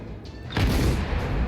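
Naval gunfire in World of Warships, a quiet stretch broken by a sudden loud boom that rolls into a sustained low rumble.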